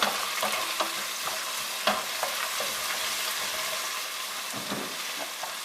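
Onions sizzle and fry in hot oil for a crab-tail curry, a steady loud crackle with occasional stirring clatter throughout, no talking.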